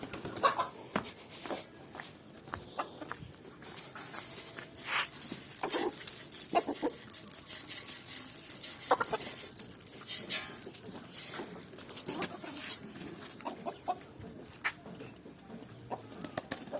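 Chickens and small roosters cluck and squawk in a busy, scattered chorus while grain is scattered for them, with other birds chirping around and brief rustling noises mixed in.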